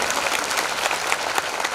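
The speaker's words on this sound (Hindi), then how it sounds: "एक बार आपके लिए भी तालियां हो जाए" A crowd at a Dhamma assembly in Parbhani applauds steadily, a dense, even wash of many hands clapping at once with no pauses, close and loud throughout.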